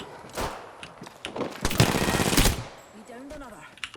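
Automatic gunfire in the video game Apex Legends rattles out in a rapid, loud burst after a couple of single shots, followed by a voice talking as the firing stops.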